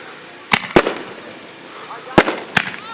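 Fireworks explode outdoors at a Kentucky jet and foam-plane flying event, five sharp loud bangs in two clusters with ragged echoing tails, while people talk in the background.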